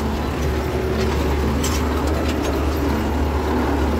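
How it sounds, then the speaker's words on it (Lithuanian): A steady, loud low tractor engine rumble drones throughout as it approaches close by, with no voices. "Lena, traktorius atvažiuoja."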